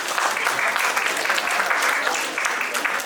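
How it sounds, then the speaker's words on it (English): Audience at a state-level workshop on consumer dispute mediation applauding, a loud, continuous patter of many hands clapping steadily throughout. "I request everybody to clap for their effort."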